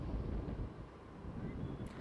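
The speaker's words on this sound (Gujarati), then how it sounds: "દરિયામાં કરંટ સાથે ભારે પવન પણ ફૂંકાયો" Strong, gusty wind buffets the microphone on the rough monsoon sea coast near Diu, a loud, continuous low roar with no clear voices.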